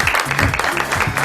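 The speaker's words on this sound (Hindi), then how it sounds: "तालियां यार" A brief burst of studio audience clapping on a morning talk show, loud and close, mixed with a voice speaking over it.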